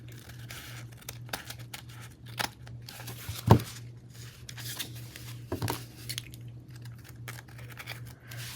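Scissors snip along the bottom edge of a glued book page in a craft project, giving a few quiet, close cuts with one sharper snip standing out over a steady low hum.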